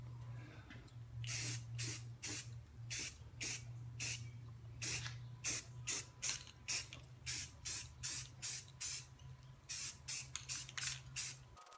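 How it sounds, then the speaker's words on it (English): Automotive spray primer hisses from an aerosol can onto an Atlas 73 drill press head in repeated short bursts, quick rhythmic sprays over a faint steady hum. "I actually got my primer here, the automotive primer, and I finally get to start actually painting this thing"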